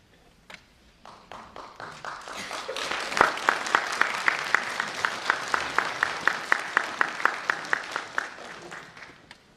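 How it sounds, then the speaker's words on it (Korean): During a political speech by Ahn Hee-jung, an audience starts with scattered claps that swell into loud, rhythmic clapping in unison, sharp evenly spaced beats continuing for several seconds before fading. "박수 고맙습니다."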